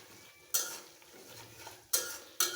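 Onion stalk pickle with garlic frying in a pan, a soft steady sizzle broken by three sharp scraping clanks of a spoon against the pan.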